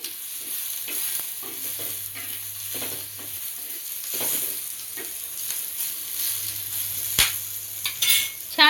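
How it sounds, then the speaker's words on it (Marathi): Onion roasting in a pan for a Kolhapuri mutton curry, a soft steady sizzle broken by repeated stirring scrapes and a sharp knock near the end. "इथे मी आता मस्त कांदा असा भाजून घेणार आहे।"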